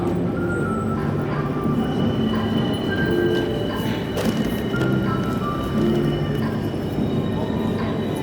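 A steady wash of busy station ambience fills the Gare de Lyon train station in Paris, with a constant low rumble, scattered clatter, faint distant voices and occasional tonal hums.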